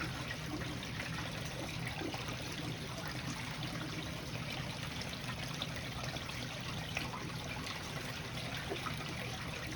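Water runs steadily through gold-recovery equipment into a bucket during a Lake Superior beach cleanup, a continuous trickling wash with no break and no voices.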